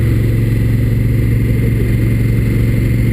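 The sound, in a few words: 2016 Honda Africa Twin motorcycle accelerating through seamless gear changes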